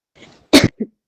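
A single sharp sneeze bursts out close by indoors, preceded by a faint breathy intake and followed by a short softer after-sound, during a biology class.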